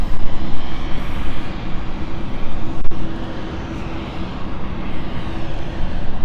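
A fixed-wing airliner on a flight to Chambery roars loudly and continuously at London City Airport. The dense jet engine noise stays steady and close for several seconds, with no talking.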